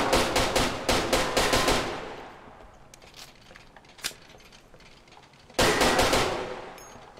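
Rapid pistol gunfire in the tactical shooter video game Ground Branch, a loud close burst of quick shots, a quieter stretch with a single crack, then another fast burst.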